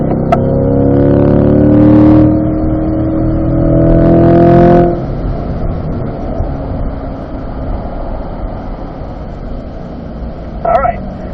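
A C8 Corvette on a race track at a performance driving school pulls hard, its engine note climbing loudly and close for several seconds before easing off into a steady rush of road and wind noise.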